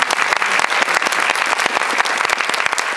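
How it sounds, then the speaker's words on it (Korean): Audience applause at a Korean film talk event at a COEX Megabox cinema, clapping for actress Jeon Jong-seo; a steady, dense burst of many hands, close and loud throughout. "들려주신 전정석 배우께 박수 한번."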